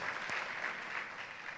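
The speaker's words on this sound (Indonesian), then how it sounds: "Now, clap for Jesus one more time." A church congregation claps together during a bilingual worship service, a steady wash of hands filling the room at moderate volume without a break.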